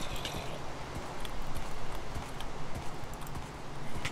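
Steady clip-clop of horse hooves walking in Minecraft, continuous and fairly close, over a constant background hum.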